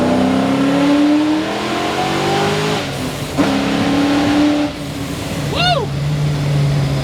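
A 620 HP Mystic Cobra Mustang roars as it revs and accelerates, the engine note climbing in repeated surges between gear changes, loud and close, with a brief shout of excitement from a person.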